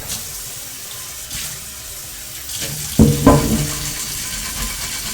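A dirty cast iron frying pan being washed under a sink tap: running water hisses steadily, then louder splashes and clanks as the pan is handled near the middle.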